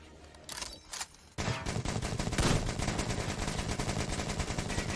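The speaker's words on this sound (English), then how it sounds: "I don't know if we're shooting the couch or actually shooting that guy" Rapid automatic gunfire in the video game Metro Exodus: a few sharp shots, then a loud sustained burst of fire running steadily to the end, with no voices.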